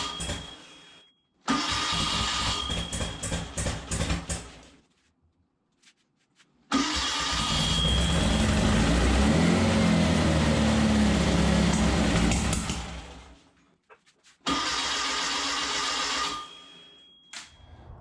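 Repeated bursts of cranking from a freshly built 1776cc engine that floods and refuses to fire, three loud grinding spells of a few seconds each, separated by silence, with no voices.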